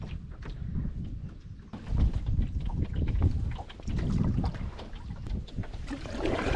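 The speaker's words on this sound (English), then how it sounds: "Paddling out of this lake" A canoe paddled out across a wilderness lake, with rhythmic paddle strokes and water swishes close by in uneven pulses, mixed with wind buffeting the microphone and a faint bird now and then, no voices.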